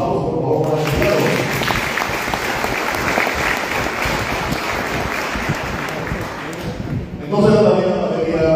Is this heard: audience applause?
yes